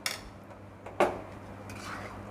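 Manchurian balls being stirred in a pan, with a few clinks and scrapes of a spoon against metal, one sharper knock in the middle, close by and fairly quiet over faint kitchen background.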